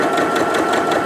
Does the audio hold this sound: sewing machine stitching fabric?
yes